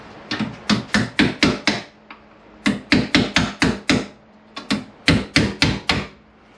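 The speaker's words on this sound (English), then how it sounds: "So I'll go get my chisel and we'll give it a little tap off." Chisel tapped with a hammer to knock a head off a part on a 1998 Kawasaki ZX9R, three bursts of quick sharp metallic taps, about five to six blows each, close and loud.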